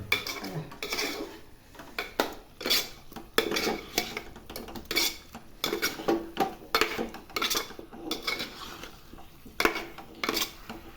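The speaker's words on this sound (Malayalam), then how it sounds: "ഇനി ഇത് നന്നായി ഒന്ന് മിക്സ് ചെയ്യാം" Repeated scraping and clinking of a utensil stirring food in a metal pot, an irregular rhythm of strokes continuing for several seconds, close by.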